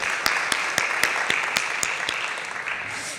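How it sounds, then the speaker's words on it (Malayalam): Audience applause at a Kathakali appreciation session in Edappally, a short burst of clapping from a gathered crowd with distinct sharp claps that fade toward the end. "സാറിനൊരു വലിയ കയ്യടി നമ്മുടെ ഭാഗത്തുനിന്ന് കൊടുക്കണം."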